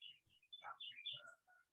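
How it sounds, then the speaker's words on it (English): Small birds chirp and trill in a yard, a string of quick high tweets and short warbled phrases, faint and distant with nothing else going on. "I'm hearing the birds and they're great"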